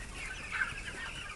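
Chickens cluck on a poultry farm, a close, busy murmur of many birds with one louder cluck standing out briefly.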